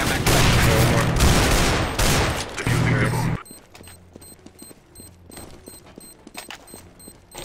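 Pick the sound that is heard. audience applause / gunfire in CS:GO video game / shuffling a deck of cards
gunfire in CS:GO video game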